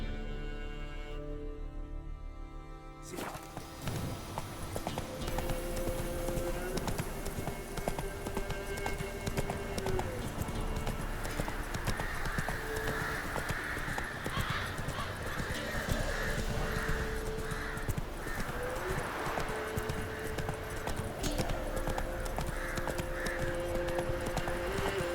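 In The Witcher 3, the horse Roach gallops with steady rhythmic clip-clop hoofbeats that carry through the whole stretch. Neighs and whinnies break in at times, and a voice speaks faintly underneath.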